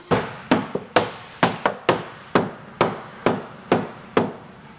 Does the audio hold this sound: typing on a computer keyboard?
no